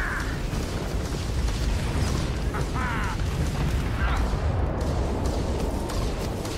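Weapon fire and explosions from the space game Starfield rumble continuously at high volume, with repeated bursts and booms blending into a dense, noisy battle wash.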